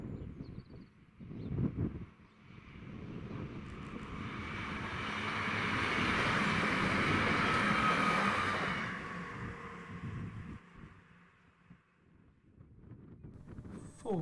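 A pair of East Midlands Railway Class 158 diesel trains roars past at close range, engine noise swelling to a loud peak and then fading away, with wind buffeting the microphone.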